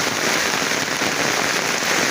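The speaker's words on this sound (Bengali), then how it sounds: "যে অবস্থা প্রচণ্ড বৃষ্টি" Heavy rain pours down outdoors near a house during a stormy downpour, a dense, steady hiss that stays loud and unbroken throughout, with no voices.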